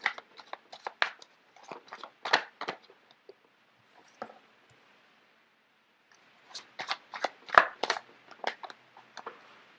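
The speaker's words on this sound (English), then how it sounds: "So let me just get the cards out first of all." Tarot cards being shuffled by hand, two bursts of quick papery flicks and riffles separated by a quiet pause, close and crisp with no talking.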